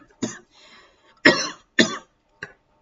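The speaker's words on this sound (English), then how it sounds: "Excuse me for the coughing in between." Three or four sharp coughs, one alone, then a pair close together and a final softer one, close and clear with short silences between.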